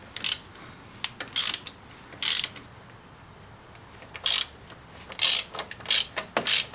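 Ratchet wrench with a 13mm socket loosening bolts on a Dodge Ram during a water pump and thermostat job, sounding as several short, loud bursts of rapid clicking separated by pauses, with no talk.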